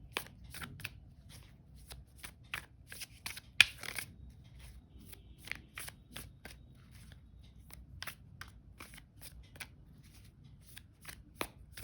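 Tarot cards are shuffled in quiet, close, crisp riffling bursts with short pauses between them, set over a faint low background hum.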